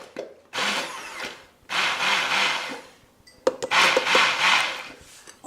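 Food processor pulsing basil leaves for vegan tofu pesto, heard as three loud, close whirring bursts separated by short pauses, with a clunk as the machine stops and restarts.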